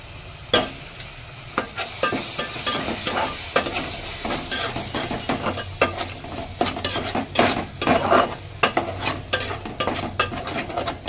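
Tomato masala for tomato rice is stirred in a sizzling pan, with frequent clanks and scrapes of the spoon against the metal over a steady close frying hiss.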